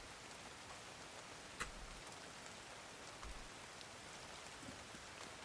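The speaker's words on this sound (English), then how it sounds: "they did a good job with the sound of rain in this game" Constant rain pattering on rooftops and car roofs in the video game The Division, a quiet wash of drops with one brief sharper tap, no talking.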